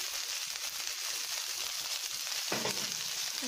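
Corn kernels dropped into a hot pan with browned pasta, giving a loud, continuous close sizzle, followed near the end by a brief clatter as the kernels land, with no voices.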